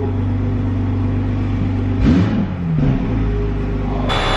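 A BMW E36 engine idles steadily nearby, then is revved in a couple of quick blips that rise and fall before settling back to a rumbling idle, heard alone without talk.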